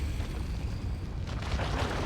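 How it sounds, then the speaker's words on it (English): A plasma cannon shot detonates in a Dawn of War 2 3v3 multiplayer match, a sustained low rumbling boom with a brighter burst of crackle swelling in the second half, loud and dense throughout. "Good plasma cannon shot there."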